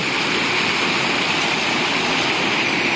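A waterfall roars in a steady, dense rush of white noise, loud and close, unbroken for the whole stretch with no voices.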